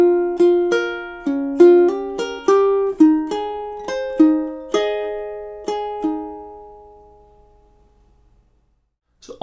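Ukulele picking two measures of a song as a slow melody with chords, about a dozen plucked notes in a steady rhythm, close and clear, the last notes ringing out and fading into near silence.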